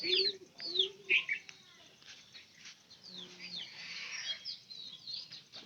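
Pigeons in a loft coo in several soft, low calls early on, then a few wing flutters and scattered chirps at moderate distance, fairly faint overall.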